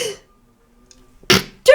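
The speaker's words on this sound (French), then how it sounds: "L'éternuement, l'allergie, peut-être." A man with hay fever sneezes twice in quick succession, sharp and close after a brief pause, the first burst a little louder than the second.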